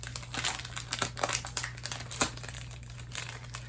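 Plastic packaging around a cross-stitch sampler kit crinkles close up, with a continuous series of sharp rustles and crackles and a steady low hum in the background.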